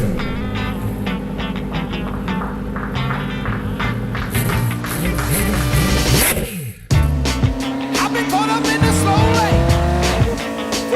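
A Koenigsegg Jesko hypercar drives with a roaring engine and squealing tires, loud and continuous but partly buried under dense background music, with a brief dip before the sound surges back.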